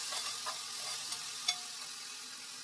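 Onions and green chillies frying and sizzling in a pan with a steady hiss, a few soft stirring clicks and one sharper scrape of a spatula, close and continuous with no voices.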